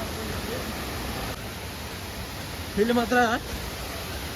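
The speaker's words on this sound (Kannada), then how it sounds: "ನೀರಂತೂ ಭಾಳ ಐತಿ ಫಾಲ್ಸ್ದಾಗ." Toraskarawadi waterfall in dense forest, a steady broadband roar of rushing water filling the whole clip, with a voice speaking briefly near the end over it.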